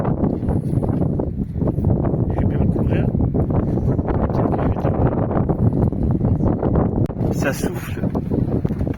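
Strong wind buffets a sailboat deck at night in a loud, continuous roaring rush, gusting unevenly throughout.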